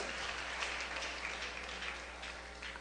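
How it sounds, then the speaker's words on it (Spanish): A church congregation applauds at a service, a steady, faint wash of many hands clapping at a distance, with no talk over it. "Un aplauso grande al Señor."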